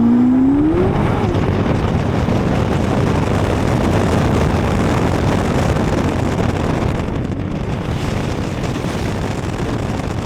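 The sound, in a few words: 2026 Corvette ZR1X hypercar driving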